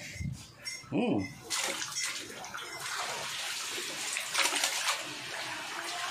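Water gushes steadily into a cooking pot for beef being boiled, a continuous splashing stream that follows a few brief knocks and a short spoken bit.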